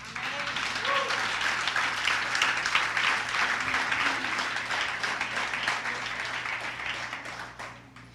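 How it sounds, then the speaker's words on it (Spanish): Applause from a church congregation during a sermon, a steady wash of many hands clapping that fills the room for about eight seconds before fading near the end. "vamos a darle un aplauso a Dios"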